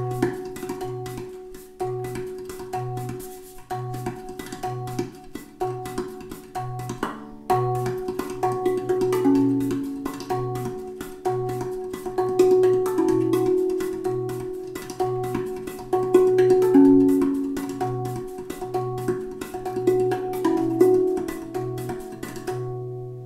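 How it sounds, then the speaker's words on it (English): A RAV Vast steel tongue drum is played with both hands in a steady 4/4 rhythm, with a repeating low pulse under ringing, sustained melodic tones. The notes are close and clear, with no talking. "When you experiment to play around with both hands, it could sound something like this."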